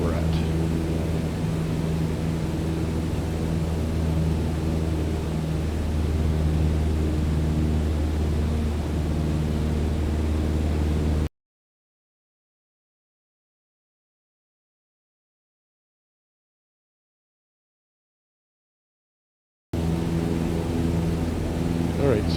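A flight-simulator airplane engine cruises at 7,500 feet, a steady, loud droning hum broken by a stretch of total silence before resuming.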